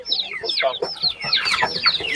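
Poultry cluck and squawk at an animal market in Ivano-Frankivsk, Ukraine, with a flock of chickens calling in quick overlapping bursts close by, loud and continuous.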